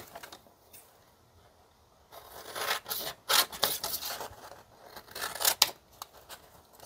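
Paper house tag being creased and folded by hand, a series of close crisp rubbing and scraping strokes that grow louder midway, with no talk.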